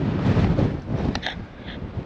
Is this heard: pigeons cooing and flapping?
no